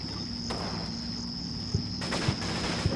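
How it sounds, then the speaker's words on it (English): Distant gunfire in the Normandy wartime strategy game Combat Mission Normandy, a few faint scattered shots and short cracks over a steady hiss and high-pitched insect-like drone, no talking. "This squad here takes some fire."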